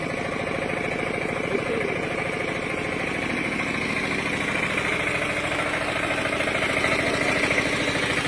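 A vehicle engine runs at idle throughout, a steady, close, loud rumble with a rapid regular pulsing throb and no talk over it.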